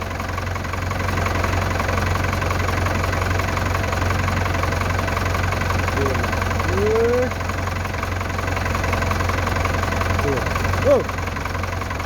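A Ford tractor engine idles steadily and loudly throughout, a constant low rumble with knocking, with occasional brief voices or squeaks over it.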